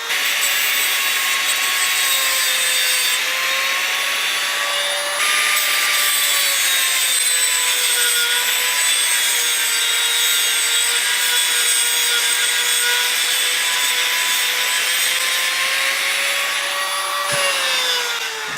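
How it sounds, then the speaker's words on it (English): Eastwood tungsten grinder sharpening a tungsten electrode, a steady high-pitched whining grind with sustained tonal harmonics, running continuously and fairly loud with slight pitch shifts, briefly dipping near the end, with no talking. "that made really short order out of sharpening an electrode"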